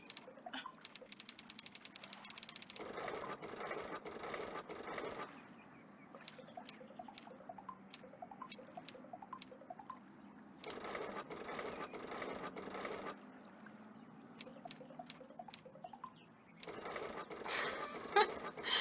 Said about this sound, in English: I'm just typing out silly words that, well, no one knows what they are.